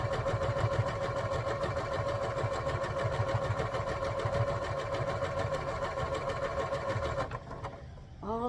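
A sewing machine stitches three layers of fabric round a circle with a quarter-inch seam, giving a close, steady, fast mechanical whir and rhythmic needle clatter that stops near the end, followed by a brief faint sound.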